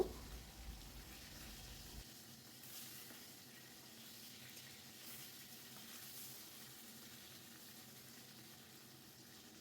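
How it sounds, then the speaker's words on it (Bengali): Parse fish fry in hot oil for a Bangladeshi-style curry, giving a faint, steady sizzle that runs continuously with a brief louder clatter at the start. "মোটামুটি আমি মাছগুলো একটু কড়া করেই ভেজে নিব"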